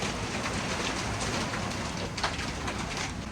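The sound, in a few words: hail and strong wind hitting a catamaran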